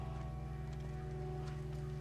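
Steady clip-clop of horse hooves from The Last of Us, a continuous rhythmic trot under a constant low droning background, fairly faint and even throughout with no talking.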